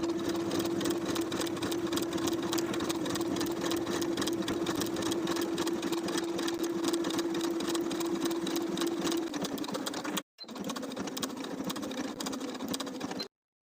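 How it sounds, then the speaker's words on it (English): A domestic sewing machine runs an overcast stitch with an overcast foot along the side and curved pocket edges of a belted dress, a steady close whirring hum for about ten seconds, a brief pause, then a few more seconds of stitching. "I'm going to be using my overcast stitch and overcast foot"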